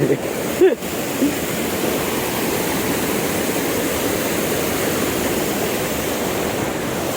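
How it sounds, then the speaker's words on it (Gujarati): Water rushes steadily over a brimming check dam swollen by heavy rain, a loud, constant roar that holds unchanged throughout, with a brief knock near the start. "ચેકડેમ પૂરો પાવર થઈ ગયો છે જુઓ મસ્ત શાકડેમનું પાણી જાય છે"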